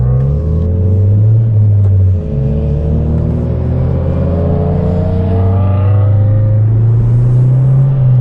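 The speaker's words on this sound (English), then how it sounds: "This Subaru sounds really good, man. All he has is a muffler delete," Subaru WRX with a muffler delete revving hard, a loud, deep exhaust rumble that climbs and falls in pitch through several blips, close by and alone.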